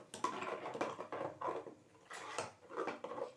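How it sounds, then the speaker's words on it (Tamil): A metal ladle scrapes and clinks against a pot as rasam is stirred. The strokes come in a loose rhythm of soft, close scraping and tapping, with no talk. "இப்போ கரண்டியால் கிண்டி விட்டுற வேண்டியதான்."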